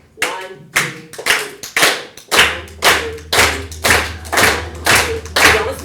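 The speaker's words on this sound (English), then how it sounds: "So you're gonna clap for me." Audience at a Black History Month celebration claps in a steady, even rhythm, with sharp, loud, regularly spaced claps and a soft thump under each beat.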